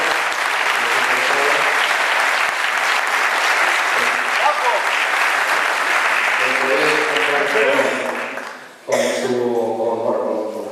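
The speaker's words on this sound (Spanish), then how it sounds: "yo quiero pedir en primer lugar un aplauso para él, para Javier y para todo su equipo" Loud, sustained applause from a crowd filling the room, fading briefly near the end before clapping resumes with voices mixed in.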